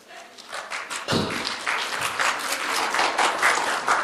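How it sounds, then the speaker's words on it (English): Audience applause at a presentation on a socio-economic registry: a steady burst of many hands clapping at moderate distance, starting after a faint lead-in and continuing evenly to the end. "I hope these claps are not to finish quick."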